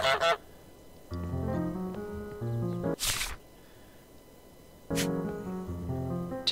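Goose honking in Untitled Goose Game, a video game: several sharp, close honks punctuate a quiet scene over a light, plucked musical background.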